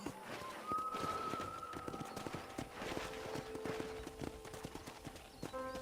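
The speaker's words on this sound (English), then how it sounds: "let's see if you can still ride a horse" Rapid rhythmic clip-clop of horse hooves at a trot or gallop in the video game Red Dead Redemption, with a faint whinny-like tone early on and some game-like background sounds.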